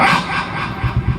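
A small dog gives a few quick, sharp barks near the end of a short moment, close and fairly loud with a house cat nearby.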